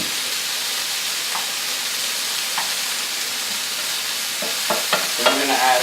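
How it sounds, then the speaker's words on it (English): Asparagus sautés in a pan for an asparagus and ham dinner, with a steady close sizzle and a few spatula scrapes and clinks growing busier toward the end. "we're going to saute these just until tender"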